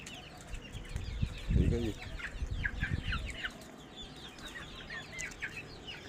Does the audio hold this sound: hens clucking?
yes